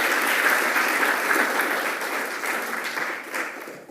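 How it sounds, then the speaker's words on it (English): A full room applauds at an awards ceremony against human trafficking, continuous crowd clapping that holds strong and steady throughout before easing off slightly at the close. "Another round of applause for Jackie Shapiro,"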